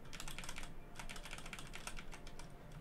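Computer keyboard keys typed in quick irregular bursts during a PC input test on an i9-13900K, RTX 4090 gaming setup, clicks close and crisp, with a short pause near the one-second mark and no talking.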